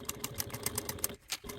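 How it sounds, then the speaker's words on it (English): Sewing machine top stitching a bi-fold wallet near the folded edge, a fast, even rattle of needle strokes running close and steady, with a brief pause near the end before it resumes. "take to the machine, and top stitch at a 1/8 seam allowance away from the folded edge"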